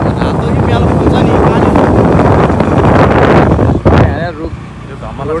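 Cold wind buffets the microphone while riding a scooter along a tree-lined road in the Surkhet valley, a loud, constant rumbling roar throughout with a brief dip near the end.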